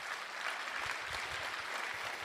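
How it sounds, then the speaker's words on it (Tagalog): Sustained applause from a church congregation during a Tagalog sermon, steady dense clapping filling the whole stretch at moderate level with no clear voices over it. "Lakasan po niyo yung palakpak."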